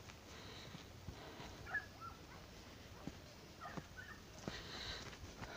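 Village dogs bark and yip in brief bursts at a distance, scattered over a faint, steady outdoor background.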